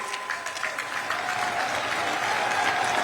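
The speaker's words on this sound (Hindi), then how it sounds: "अपनी तालियों के प्रणाम आप मंच तक पहुंचाएं" Audience at a public event in Uttarakhand gives sustained applause welcoming India's Prime Minister, a broad, even wash of many hands clapping that holds steady and swells slightly toward the end.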